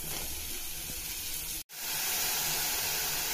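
Chopped mushrooms and onion sizzling in a pan make a steady, close frying hiss, briefly cut off at one point before resuming louder.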